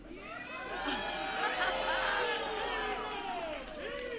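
A wrestling crowd cheers for Thunder Rosa at a women's wrestling match, a dense, sustained roar of many voices with overlapping shouts and whoops, fairly loud and steady throughout.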